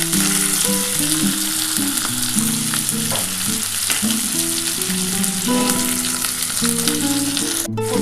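Onions fry in hot oil for an egg masala curry, a loud steady sizzle close by with stirring scrapes running throughout, no talking, and a steady tonal hum beneath.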